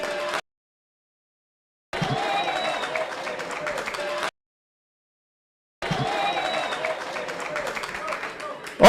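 Audience applause at a live cybersecurity law forum comes in two separate bursts of clapping, fairly loud and close, each lasting a couple of seconds and broken by abrupt silent gaps.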